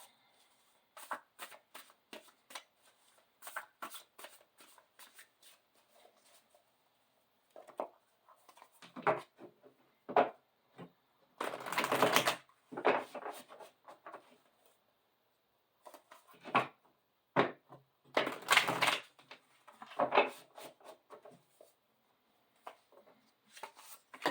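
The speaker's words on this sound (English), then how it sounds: "And this is Melanie Becker's Oracle cards." Oracle cards being shuffled by hand in a quiet room, heard as bursts of soft papery riffles and flutters separated by short pauses, close and fairly faint.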